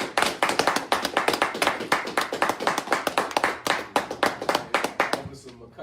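Rhythmic hand clapping close by, a quick, steady beat of sharp claps repeating for several seconds before stopping, with voices mixed in.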